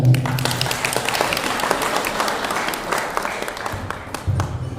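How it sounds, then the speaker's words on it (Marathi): A crowd at a pilgrimage procession welcome claps steadily for several seconds, dense and fairly loud applause that swells slightly near the end. "जरा टाळ्या वाजवा."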